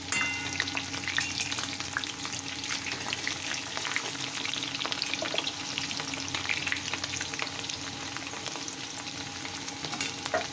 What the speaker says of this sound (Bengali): আলুগুলো ভাজতে একটু লালচে করে ভেজে নেব